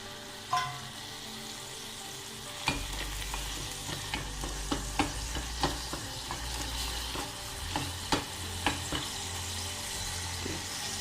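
Garlic cooks in lamb stock for a curry, a steady bubbling sizzle broken by repeated scraping and knocking as a utensil stirs the pan, close and clear with no talk.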